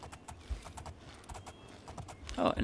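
Rhythmic clip-clop of horse hooves at a steady trot in the video game Oblivion, moderately close, with a brief louder burst near the end.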